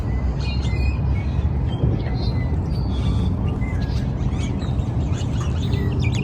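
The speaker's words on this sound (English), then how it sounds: "Lots of birds." Many birds, including swans, call and chirp over a loud, steady background in a Los Angeles park, with quacking ducks mixed in and voices talking nearby.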